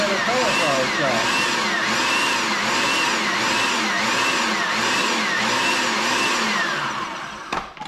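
Food processor pulsing a whole head of chopped cauliflower into rice, a loud steady motor whir with rhythmic swells throughout, stopping abruptly near the end.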